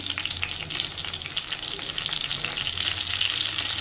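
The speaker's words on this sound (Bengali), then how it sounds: "এবারে সবজিগুলোকে ভালো করে ভেজে নেব।" Mixed winter vegetables sizzle and fry steadily in a pan at a constant, close level with a dense hiss, with no voices present.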